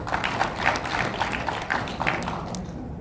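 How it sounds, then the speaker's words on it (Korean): An audience at a discussion event gives a round of encouraging applause, a steady, fairly faint patter of many hands clapping together, with a murmur of voices underneath. "격려의 박수 한번 주셨으면 고맙겠습니다."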